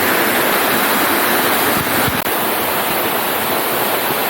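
A waterfall near a resort in Munnar roars loudly and constantly up close, a dense unbroken rush of falling water that drowns out everything else.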